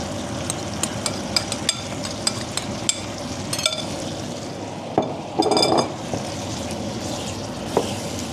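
A spoon stirs and scrapes curry ingredients around a pan for a Malaysian curry, giving repeated sharp clinks and taps at first, then a brief louder sizzling scrape, close up with no talk.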